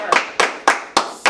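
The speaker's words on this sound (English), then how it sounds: "Clap for her. Clap for her." An audience claps in sharp, evenly spaced bursts, about four or five close, loud hits of a group applauding together, with no talk over them.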